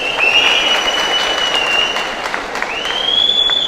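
A large crowd at a political rally claps and whistles loudly and continuously, with sharp shrill whistles gliding over the dense clapping throughout.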